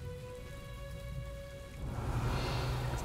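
Rain falling in the Hogwarts Legacy video game, a continuous hiss of drops on surfaces under a faint tonal hum, growing louder and denser partway through.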